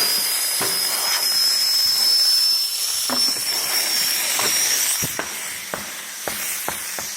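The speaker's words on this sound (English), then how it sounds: "Pull this out. We let all the air out." Air hisses steadily out of a car tire through the open valve stem with the core removed, a loud continuous rush with a few sharp clicks and taps toward the end.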